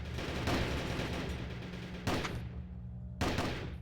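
An assault gun firing in Warzone, three separate loud bursts of rapid shots with echoing tails and quieter gaps between them.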